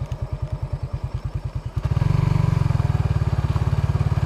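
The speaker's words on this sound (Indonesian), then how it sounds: "Kita pelan-pelan saja pakai motor." A motorcycle rolls slowly along an outskirts street in Singkawang, its engine pulsing in an even low thump before picking up into a steadier, faster drone, close and fairly loud with no talk.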